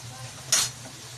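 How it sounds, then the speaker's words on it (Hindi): Garlic ginger paste hits a pan of golden fried onions with a sudden loud hiss, a quick close burst that fades into a quieter background sizzle. "अब इसमें डालेंगे लहसुन अदरक का पेस्ट।"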